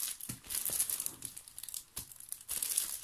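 A plastic bag of gummed envelope packets crinkles and rustles close by in quick, uneven handling bursts.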